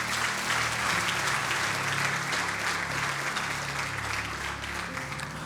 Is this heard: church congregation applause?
yes